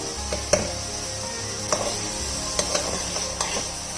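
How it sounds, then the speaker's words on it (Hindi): Green peas and cumin seeds frying in ghee in a pot, with a steady low sizzle under scattered clicks and scrapes of a stirring spoon. "मटर डालने के बाद इसको 2 से 3 मिनट के लिए अच्छी तरह हम घी में फ्राई कर लेंगे"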